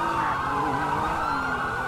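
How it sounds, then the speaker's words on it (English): A police car siren wails continuously in a video game, loud and near, its pitch sweeping steadily up and down over a low engine rumble, with no talk. "We're going to reactivate the siren."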